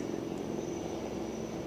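Navy Chetak and Advanced Light Helicopters flying past at the INS Vikrant commissioning ceremony give a steady, droning rotor and engine roar, fairly distant and unbroken.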